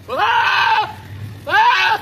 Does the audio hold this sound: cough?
no